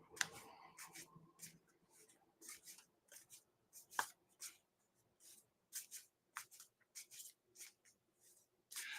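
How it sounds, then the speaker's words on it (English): A deck of tarot cards being shuffled by hand, giving a string of short, soft riffling and sliding bursts at an irregular rhythm, close and fairly quiet with no talking. "And what I do is I continue shuffling until they tell me they're ready."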